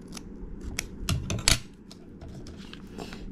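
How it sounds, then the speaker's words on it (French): Scissors cutting paper for a junk journal page, a quick series of crisp snips and rustles, close and fairly loud, with one sharper cut near the middle. "Je vais le couper encore un peu."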